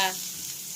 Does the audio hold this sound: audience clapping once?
no